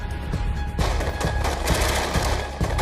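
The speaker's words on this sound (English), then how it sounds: "the Americans unload a barrage of gunfire, killing him" Dense, loud barrage of rapid gunfire in a war setting, overlapping shots and bursts crackling continuously with sharp repeated impacts.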